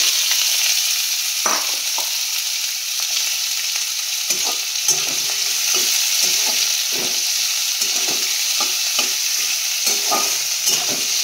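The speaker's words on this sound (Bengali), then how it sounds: "নেড়ে নেব। এবার সবজিটা দিয়ে দেবো।" Vegetables stir-fried with chopped green chilli, cardamom and cinnamon in a pan for chira pulao, a loud steady sizzle broken by repeated scraping stirs of the spatula.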